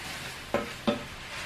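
Chopped leeks drop into a pot of sizzling smoked pork jowl and onion, two quick stirring scrapes over a steady low frying hiss, no voices.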